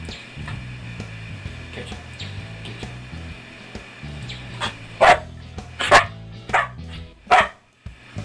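A dog barks several times in sharp, loud bursts spaced a second or so apart, over a background of low household hum and faint clatter.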